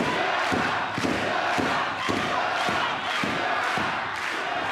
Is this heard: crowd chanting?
yes